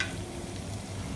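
Meat sautéing in a pan for a stir-fried cauliflower rice dish, a steady close sizzle with no talking.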